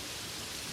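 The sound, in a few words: rain falling on a fiberglass roof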